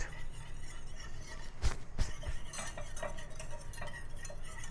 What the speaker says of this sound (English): now I'm going to sprinkle just a little bit of flour in there. And just kind of whisk that around a little bit